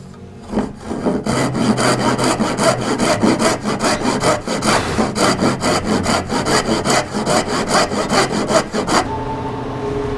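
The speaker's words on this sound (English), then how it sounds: "So I'm sawing out the pins here" A hand saw rasps through wood cutting dovetail pins on a drawer front in quick, steady back-and-forth strokes, close and loud, continuing for several seconds before stopping abruptly near the end.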